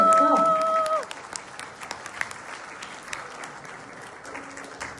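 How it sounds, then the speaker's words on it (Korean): Applause from family, friends and acquaintances at a Korean wedding celebration, a burst of clapping that starts loud and then thins out to scattered claps over background murmur. "여러분 응원의 박수가 빠질 수 없겠죠?"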